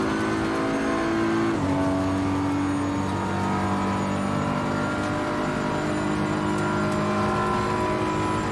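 Race car engine in the Assetto Corsa Competizione racing game, BMW against Porsche, a loud continuous drone with shifting gear pitch and a noticeable change after about a second and a half.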